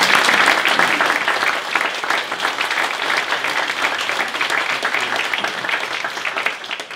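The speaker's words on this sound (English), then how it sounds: "can we have a wee round of applause for our guests?" Applause from the audience greets the guests of a theatre panel discussion, a full, continuous round of many hands clapping, loud and close, holding steady for several seconds before tapering slightly.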